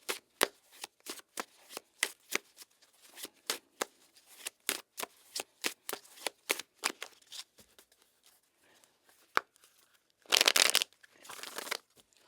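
A deck of tarot cards is shuffled up close, with quick papery riffles and soft taps in an irregular rhythm, ending in a louder burst of bridging cards.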